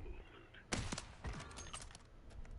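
Crackling firecracker item in the video game Warzone, a burst of sharp popping bangs starting abruptly and then a second cluster, loud over a steady background of game noise.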